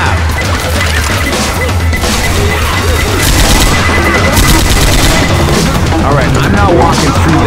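Pipe bomb in the Left 4 Dead 2 video game, loud chaotic blasts and crashes layered over gunfire and a frantic zombie horde, with shouting voices throughout.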